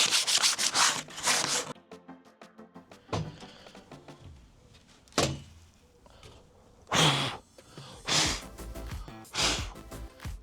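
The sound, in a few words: deburring a cut metal template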